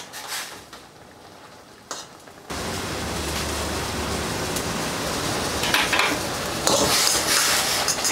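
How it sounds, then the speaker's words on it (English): Noodles tossed with homemade chili oil in a hot pan, a quiet start with a few clinks, then a loud, steady sizzle and stirring scrape that builds toward the end. "All we need to do now is give them a little mix over."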